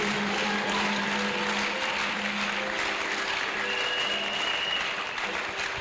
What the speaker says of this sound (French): Come on, let's give God a big hand of praise.